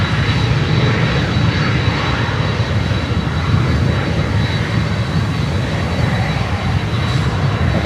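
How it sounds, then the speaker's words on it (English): A Frontier jet airliner arriving on runway 12 at Miami airport, heard as a loud, steady broadband engine roar that holds evenly for the whole stretch without any breaks. "Looks like there's Frontier coming in on runway 12"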